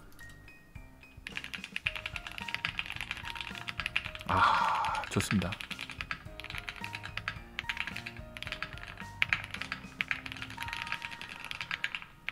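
Rapid, steady clacking of a mechanical keyboard with foam-dampened switches being typed on, close and crisp, with a brief louder rustle midway and a short spoken remark.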